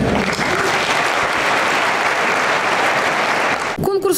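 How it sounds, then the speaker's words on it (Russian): Dense, loud crowd applause at a Leaders of Russia competition event in Krasnodar, a continuous wash of clapping that stops abruptly near the end as a voice starts speaking. "Давайте отдельными аплодисментами."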